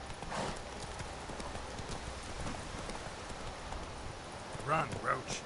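Roach, a horse in The Witcher 3, gallops with rhythmic clip-clop hoofbeats over steady background ambience, followed near the end by a short neigh-like call.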